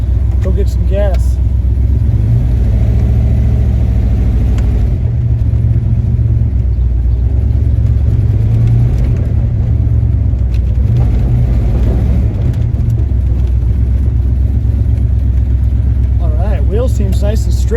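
Turbocharged Ford Mustang driving, a loud continuous in-cabin engine rumble with some revving, with a person talking over it.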